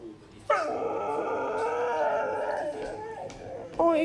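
A husky named Luca whimpers and whines in a long, drawn-out, wavering cry close to the microphone, breaking off and then starting again.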